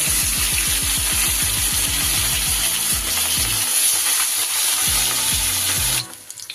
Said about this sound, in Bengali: তাই জন্য ভাজার আগে খুব ভালো করে তেলটা গরম করে নিতে হবে।